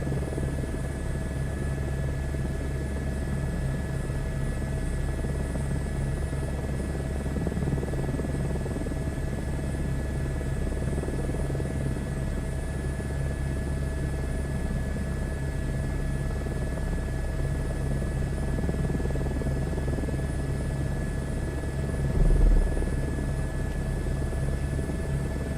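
A helicopter in Microsoft Flight Simulator 2024 drones steadily throughout, a constant rotor and turbine hum with a brief louder swell near the end and no voices.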